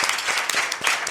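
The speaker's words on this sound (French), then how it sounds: "on applaudit pas Fabien, mais on applaudit tout le monde" Audience applause at a live event: a steady patter of many hands clapping fills the whole short stretch, fairly close and even, with no voices on top.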